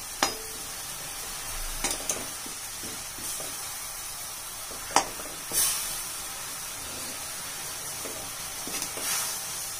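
Jaggery stirred and melting in a pan over a medium gas flame gives a soft, continuous sizzle and hiss with scattered scraping clicks of the spoon, fairly quiet and with no voices.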